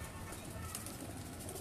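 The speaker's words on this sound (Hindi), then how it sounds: "जी जी मेरा टेडी कबूतर है जनाब" A Teddy pigeon at a pigeon fancier's show gives soft, faint coos in a quick burst.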